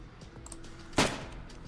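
A single sniper shot cracks out in the video game Shining Force, one short, bright burst over a quiet game soundscape.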